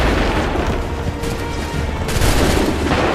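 Loud, dense musket volley gunfire from the Bunker Hill battle in the video game Assassin's Creed III, sustained booming shots blending into one another for a few seconds.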